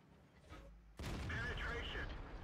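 A World of Tanks tank cannon fires once, a sudden heavy boom that cuts in sharply partway through over a rumbling battle backdrop, with game effects ringing after the blast.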